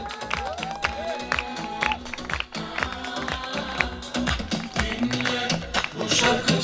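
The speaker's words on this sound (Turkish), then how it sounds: "Dayımıza bir alkış gelsin bakalım" Guests at a circumcision celebration in Kocaeli clap and cheer together over loud festive music, the applause rising and falling in bursts amid crowd noise.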